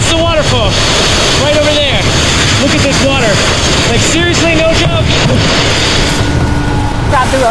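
A flooded mountain river rushing beside a waterfall gives a loud, constant roar of churning water, with several voices talking over it near the microphone.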